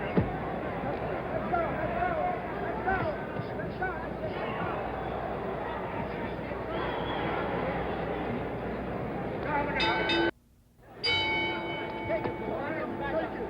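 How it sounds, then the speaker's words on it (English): Boxing ring bell for round nine at the San Diego Sports Arena in Ali versus Norton, 1973, ringing out with sharp tonal strikes near the end, over a steady crowd babble and commentary. "The bell for round 9."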